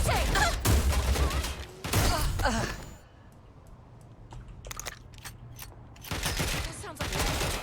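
Gunfire in Watch Dogs Legion, with loud bursts at the start and end around a quieter stretch of scattered sharp clicks and cracks.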